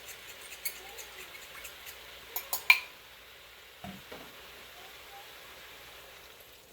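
Sauce is poured into a hot pan of beef stir-fry, giving a faint, steady sizzle with a few short splashy bursts near the middle that then settle back into a quiet hiss.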